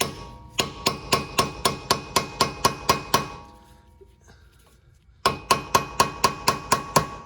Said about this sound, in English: I'm gonna try my luck with just a screwdriver and a hammer